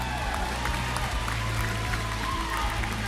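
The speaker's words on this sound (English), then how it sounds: "a round of applause for Selangor Red Giants." A crowd applauds steadily throughout at an MPL Malaysia esports match, dense clapping over a noisy, reverberant hall with a low hum underneath.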